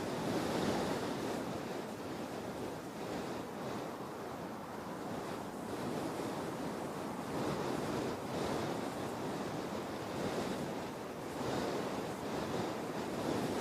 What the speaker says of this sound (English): this wind is getting silly.